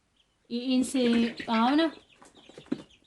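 Chickens kept in a heated indoor pen give a loud, close call of three drawn-out, pitched segments, then trail off into softer scattered clucks.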